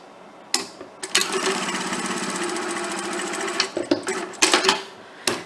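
A sewing machine runs in a continuous close whirring burst through fabric on a picnic placemat, with brief handling clicks and thumps at the start and near the end.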